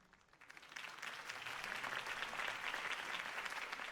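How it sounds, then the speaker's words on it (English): Crowd applause follows a campaign speech in the Batman Telltale video game, a dense, steady wash of clapping that swells within the first second and holds loud and continuous to the end. "If only Mr. Wayne, my campaign's largest backer, could have heard that applause"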